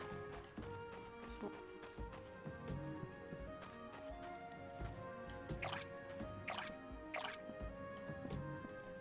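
Watering can being filled with water in the video game Core Keeper, soft game sound effects of repeated dripping and sloshing liquid blips over a steady background bed of game music, heard fairly quietly.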